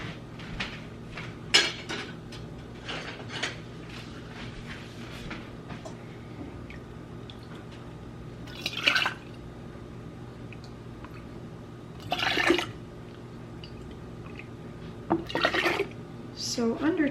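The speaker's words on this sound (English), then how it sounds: "we're just gonna start ladling this" Salsa being ladled into glass canning jars in a home kitchen, heard as soft wet pours and clinks in intermittent bursts with quiet gaps between, fairly close.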